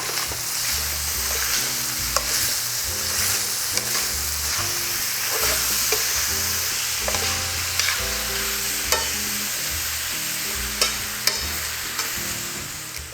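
Steady sizzling of onion and garlic frying in a pan, with occasional clicks and scrapes of stirring throughout, close and fairly loud.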